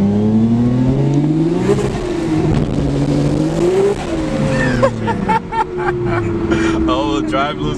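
A car revving hard and losing traction while being filmed for car photography in a town, its engine note climbing and falling loudly up close, with tire scrub and voices talking over it toward the end.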